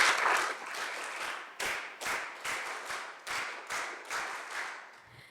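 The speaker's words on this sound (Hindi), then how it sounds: "तो एक बार अपने लिए वीर ताली बजा लीजिए।" A crowd claps steadily, the applause swelling into a rhythmic beat of repeated pulses, loud and sustained with no talking.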